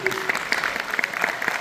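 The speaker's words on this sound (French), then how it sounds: "on peut les applaudir" Audience applause for dubbing actors at a conference, brisk clapping throughout a short stretch with voices mixed in.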